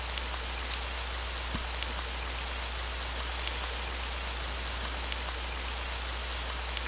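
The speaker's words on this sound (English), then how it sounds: "It's raining outside." Steady rain falls outside, a dense, even hiss of drops on surfaces with scattered individual patters, continuous and moderately loud with no voices.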